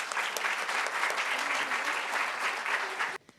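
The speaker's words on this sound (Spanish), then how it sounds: "Un aplauso, por favor." An audience at a seminar on security and organized crime in Chile applauds the moderator, president of the Santiago Chamber of Commerce; steady close clapping runs throughout and cuts off abruptly at the very end.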